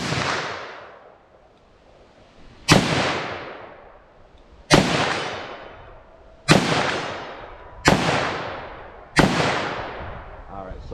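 Five loud, sharp gunshots from a .357 Magnum revolver fired outdoors, spaced about two seconds apart, each followed by a long echoing decay.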